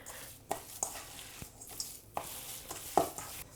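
Almond butter cookie dough being squeezed and mixed by hand, giving soft sticky squelches and light pats in an irregular rhythm, close up and fairly quiet with no talking.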